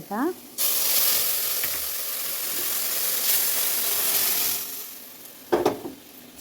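Mustard seeds spluttering in hot oil for a curry tempering, a loud steady sizzle with crackling pops, briefly broken near the end by sharper bursts.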